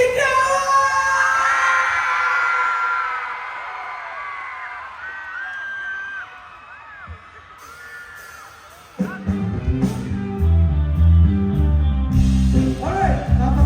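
A large crowd at a concert in Dubai yells and cheers loudly, gradually fading, then amplified band music and noise kick in abruptly.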